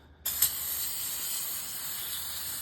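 Carburetor cleaner sprays from an aerosol can onto a Jeep YJ carburetor, a sudden steady hiss that starts abruptly and holds loud and continuous, close up, with no talking.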